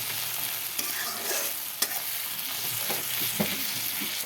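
Onions fry to a reddish brown in a pan for Bengali katla chorchori. A dense close sizzle runs throughout, with a few sharp stirring knocks against the pan, and nobody talks.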